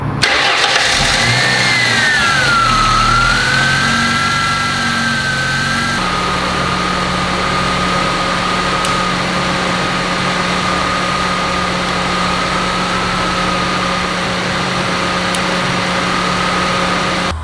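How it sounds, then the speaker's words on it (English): A car with a suspect fuel filter and a fuel pressure gauge attached cranks with a whirring starter for a few seconds. It catches and then settles into a loud, steady, close idle. "I'm gonna go ahead and start the car up."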